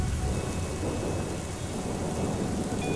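Heavy rain drums on a roof in a dense, loud, continuous wash, with a low rolling thunder rumble underneath throughout.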